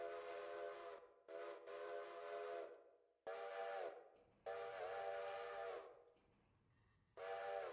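Steam train whistle in the railroad simulation game Railroader, sounding in several long sustained blasts with short gaps between them, fairly loud and alone with no talk.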